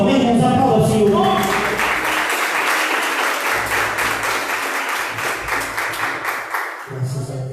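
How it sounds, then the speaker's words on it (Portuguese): A church congregation at a Sunday service claps together in a loud, sustained round of applause that swells after a sung or spoken opening and carries on steadily to the end. "Vamos aplaudir ao Senhor"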